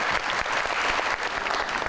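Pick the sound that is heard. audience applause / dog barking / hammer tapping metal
audience applause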